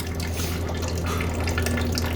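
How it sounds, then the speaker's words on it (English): Water running steadily out of an open plumbing line during shut-off valve installation, a continuous close hiss and splash with no talking. "That water's still coming out."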